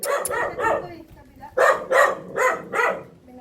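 A dog barks in two bursts, a couple of sharp woofs then three or four more evenly spaced, fairly close and loud.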